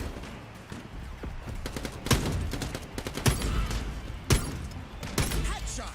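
Shotgun blasts in the arena shooter Quantum League, several sharp loud bangs spaced irregularly a second or so apart over a busy background of game noise and talk.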